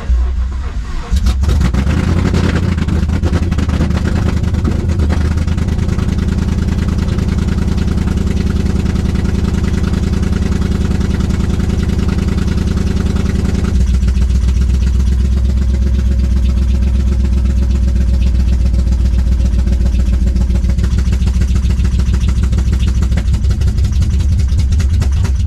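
A Ford Mustang running on E85 fuel idles roughly and loudly nearby, its steady low rumble held up with light throttle and shifting pitch partway through, with no talking.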